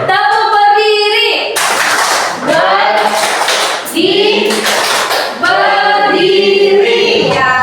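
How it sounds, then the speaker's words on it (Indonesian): Rhythmic clapping from a class of students doing the 'tepuk berdiri' clap chant, with sharp broadband bursts in quick groups alternating with chanted and spoken voices throughout. "semuanya. Tepuk berdiri."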